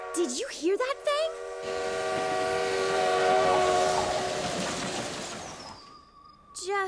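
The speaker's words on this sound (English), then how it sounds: "did you hear that spooky train whistle this morning?" A cartoon train whistle sounds in a long, eerie, sustained chord that swells and fades, with brief voices before and after it.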